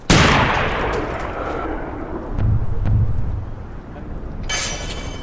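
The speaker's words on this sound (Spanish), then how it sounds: "disparo de precisión" A precision sniper shot in the video game Army of Two opens with a loud boom that rolls into a long, rumbling decay, followed by another burst near the end.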